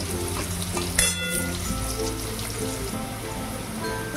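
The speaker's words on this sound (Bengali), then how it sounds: "আলুগুলোকে বেশ বাদামি বাদামি করে আমি ভেজে নেব।" Potato pieces fry in oil in a pan for a vegetarian potato-and-pointed-gourd curry, with a loud continuous sizzle and crackle and the clatter of a spoon stirring them.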